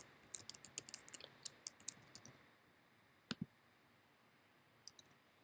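Mouse clicks on an app: a quick flurry of small, sharp, close clicks at the start, then two isolated clicks and a final pair, all faint against a quiet background.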